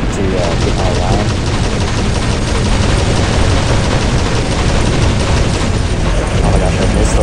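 Gunfire in the War Robots mech combat game: dense, continuous rapid-fire bursts with heavy mechanical rumble, loud and unbroken throughout.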